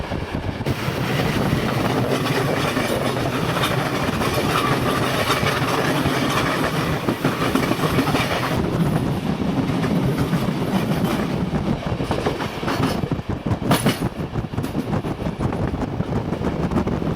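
A freight train rumbles along the rails near Split, Croatia, continuously, wheels clattering in a steady rolling roar that stays loud and close throughout.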